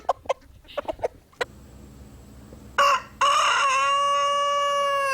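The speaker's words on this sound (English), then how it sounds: "Roosters, for example, make what they call locator calls" A few short clucks and taps, then a rooster crows loudly and nearby, its long drawn-out call ringing clearly to the end.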